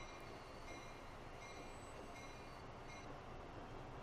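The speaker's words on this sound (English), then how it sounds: "Ah, nah, this train is coming in. This train is in now." A train rolls into a station in the video game Transport Fever, a steady, dense rumble of rail noise with faint higher tones, continuous and even throughout.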